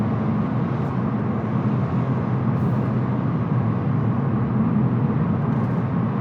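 A 2022 Volkswagen Golf GTI cruises on the Autobahn in 6th gear, a steady, loud low road and engine drone with wind noise inside the cabin, unbroken and without talk.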